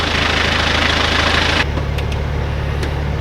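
A narrowboat's diesel engine runs steadily after a blown fuse was replaced, a loud, close, low rumbling idle with an even throb that drops to a lower, smoother drone partway through.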